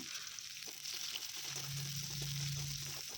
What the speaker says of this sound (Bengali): এই যে প্রথমে ডিমটাকে ভেজে নিচ্ছি আর তারপরে এখানে একটু রসুন আর আদা আর পেঁয়াজ দিয়ে দিলাম